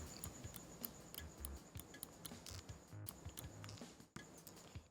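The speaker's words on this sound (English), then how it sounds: "So that's the normal clicking sound." Quiet, crisp clicks of a Pwnage Trinity computer mouse button, repeated at an uneven pace close to the microphone over faint room noise.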